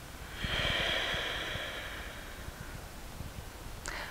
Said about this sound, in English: block off the right nostril, inhale through the left. Release the nostril, exhale.